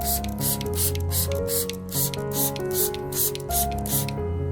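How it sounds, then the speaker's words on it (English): Fine misting sprays of a diluted solution over an Anthurium plant, leaf tops and undersides, heard as a run of repeated short hissing bursts close by over steady background music. "gently mist the solution over the entire Anthurium plant, including both the upper and lower surfaces of the leaves"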